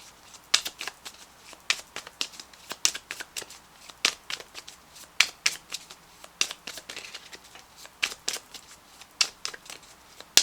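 Tarot cards being shuffled by hand: a steady run of crisp riffling flicks and soft slaps, close and fairly quiet, with no voice over them.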